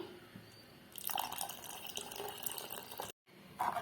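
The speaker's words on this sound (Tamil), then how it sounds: "தேவையான தண்ணி சேர்க்கணும்" Water poured into a pot of green turkey berry curry, a steady trickling splash that starts after a quiet moment, stops briefly, then resumes, close and faint.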